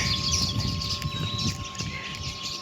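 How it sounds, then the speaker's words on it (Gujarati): Sparrows chirping in a busy, noisy outdoor setting, with quick overlapping tweets over a steady background hum. "ચકલીઓ આવી ગઈ છે"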